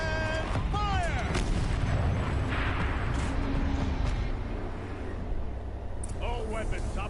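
A tank cannon fires in a video game cutscene, a heavy boom with rumbling tail under steady engine noise, while a voice speaks at the start and end.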